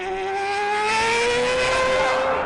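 A Mazda 787B race car screams along an onboard lap at Le Mans, its high engine note holding loud and steady as the pitch slowly shifts, with no voices over it.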